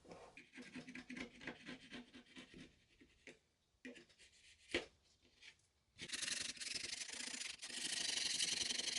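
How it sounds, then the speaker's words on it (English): Excess polyurethane glue is sanded off surfboard foam during an FCS2 fin box repair, a series of short rhythmic rubbing strokes, close and fairly quiet, giving way to a louder, steadier abrasive hiss toward the end. "I got a little bit here that I just got to sand off."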